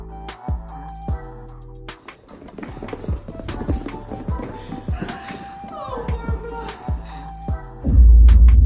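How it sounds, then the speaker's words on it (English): Hooves of a Yakut horse, an Arctic breed, clip-clop in a steady uneven series of sharp near thuds, with music-like tones and a loud rumble near the end. "The Yakut horse is an Arctic horse"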